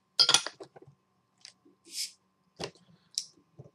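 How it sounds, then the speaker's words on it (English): A bottle of Lazy Magnolia Southern Pecan nut brown ale is opened in a quiet room: a few light glassy clinks and taps, a short airy hiss, then more scattered soft clinks. "So we're going to pop this one open."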